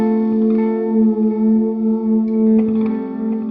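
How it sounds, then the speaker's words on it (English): A Cole electric guitar played through Spaceman effect pedals into a Sour Sound amp rings out in sustained, chorused and lightly distorted chords with a shimmering echo tail, close and loud. "plugging in his Cole guitar into Spaceman effect pedals and a Sour Sound amp"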